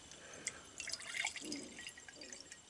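Water trickles and drips into a measuring jug while a cook checks for one cup, a soft, faint splashing that runs steadily for a few seconds without any talk.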